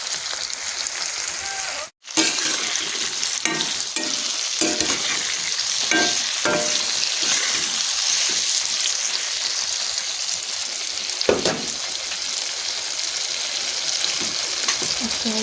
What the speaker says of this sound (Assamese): আৰু এনেদৰে এইখিনি 3-4 মিনিটৰ কাৰণে ভাজিম।